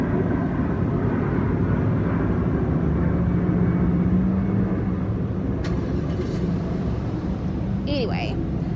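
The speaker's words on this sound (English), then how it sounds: "I hope this airplane goes by." A low, steady rumble of an airplane passing overhead, continuous throughout with a faint droning tone.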